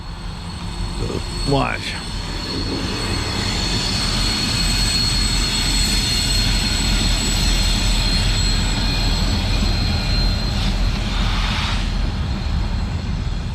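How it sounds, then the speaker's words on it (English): A loud rumbling roar of a short passing train heard from a bike ride in New York, steady and close, with a brief horn-like tone early on and a short spoken word. "Oh, here comes a train."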